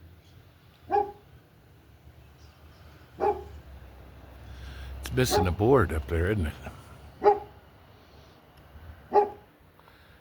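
A dog barks several times at a distance, single spaced barks over steady outdoor background, while a person talks briefly in the middle.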